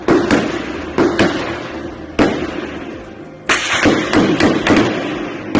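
Gunfire during an Indian army clash with terrorists: a series of loud, sharp cracks at irregular intervals, some close together, over a rumbling background, with no talking.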